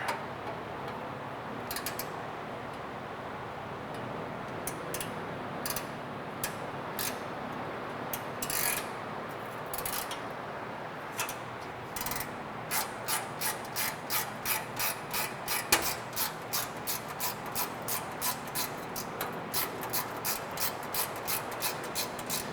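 A ratchet wrench with a small 11 mm socket works on a Porsche 991 GT3 exhaust fitting: sparse clicks at first, then a quick, steady run of close, crisp ratcheting ticks in repeated strokes.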